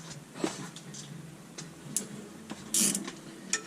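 A ratchet tightens bolts on the rear brake caliper bracket of a 2006 Dodge Sprinter 3500, quiet irregular clicks and a few short metallic bursts at close range, with no talking.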